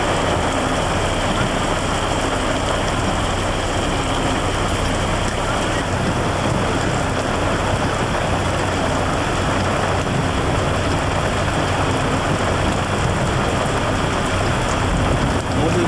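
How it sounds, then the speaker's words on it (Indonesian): Steady heavy rain pouring down during an outdoor police ceremony in 1998, a dense, loud, continuous hiss that stays constant throughout, with faint voices beneath the downpour. "hujan tuh upacaranya."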